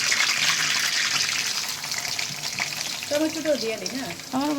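Onion, cinnamon and cardamom fry loudly in a curry pan, a steady close sizzle with stirring, fading slightly as a voice begins speaking near the end.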